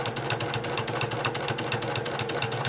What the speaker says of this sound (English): So I'm going to continue sewing.